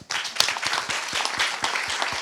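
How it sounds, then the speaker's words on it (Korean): Audience applause at a research-institute entrepreneurship talk concert, a short burst of moderately sized clapping from a seated crowd, fairly soft and lasting about two seconds. "지금 박수 한번 보내주십시오."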